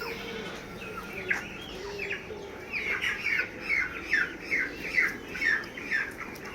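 Chickens on a poultry farm hit by disease give squawking calls: one at first, then a steady run of repeated calls over a constant low background hum.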